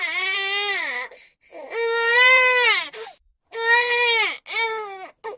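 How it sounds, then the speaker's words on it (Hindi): An infant wails in long, sustained cries broken by short gasping pauses, loud and close, with three drawn-out bouts heard alone and no talk. "ये तो मेरे बच्चे के रोने की आवाज है।"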